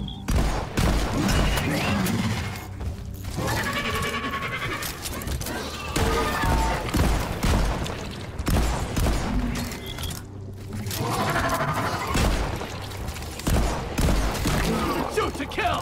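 Gunfire in the Deep Rock Galactic video game, Engineer class played solo: dense bursts of shots and booms in repeated clusters, loud and close, with a voice speaking between and over them.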